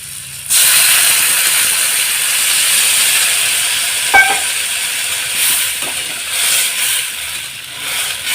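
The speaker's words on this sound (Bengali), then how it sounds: "এবারে আমি হালকা করে জল দিয়ে দেবো" Water hits a hot pan of fried potatoes and bursts into a loud, steady steam hiss that carries on with small clinks and bubbling pops.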